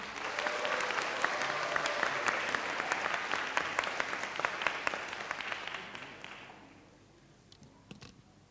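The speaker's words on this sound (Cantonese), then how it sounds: "我哋俾掌聲佢" Applause from a church congregation for a candidate about to be baptised, a steady wash of many hands clapping that fades out after about six seconds, leaving a few stray claps.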